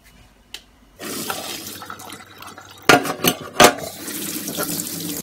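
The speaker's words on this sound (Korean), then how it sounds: "찬물로 씻습니다." Cold tap water rushes steadily over boiled peas or beans in a kitchen sink, close and fairly loud, with a few sharper splashes and clatters as the beans are rinsed and drained.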